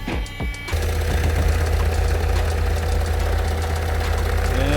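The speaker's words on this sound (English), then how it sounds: "check the exhaust for this little blowout that it's got" A second-generation Citroen Berlingo DV6 diesel engine clatters to life and settles into a steady, close idle, with a rapid rhythmic puffing from a small exhaust blowout running underneath.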